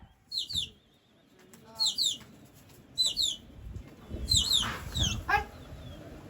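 Several short bursts of bird calls repeat in clusters, with a faint rustle and low background noise between them; no one speaks.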